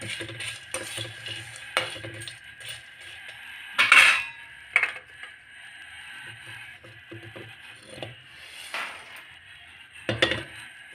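Whole spices dry-roasted in a pan for garam masala, with scattered clinks and scrapes of a utensil against metal and rattling seeds, close by, irregular and fairly quiet, no speech.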